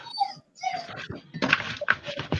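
A pet dog lying in her bed whines and growls in short uneven bursts, close by, with high whimpering tones breaking through rougher low growls and no talk over it.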